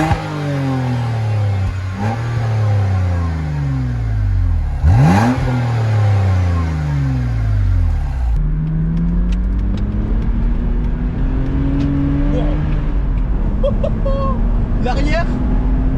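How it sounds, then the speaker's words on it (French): A BMW Z4 E85 roadster's exhaust drones and rises through the gears while driving, heard from inside the car, with pitch sweeps as it accelerates and shifts, loud and steady throughout, with faint talk at moments. "Je sais pas si vous arrivez à percevoir le son de l'échappement."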